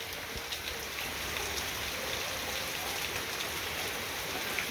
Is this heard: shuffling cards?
no